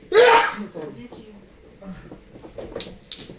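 A single loud, sharp sneeze bursts out at the start during a team mahjong game, followed by quieter chatter and tile clatter around the table.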